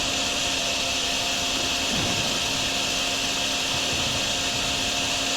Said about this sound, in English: we're going to kind of vacuum up this, vacuum up some of this water along here.